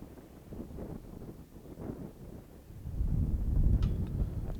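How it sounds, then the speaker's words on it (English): Wind gusts across an outdoor golf course, a low rumbling buffet on the microphone that swells louder in the second half, with no talking. "You can hear the wind."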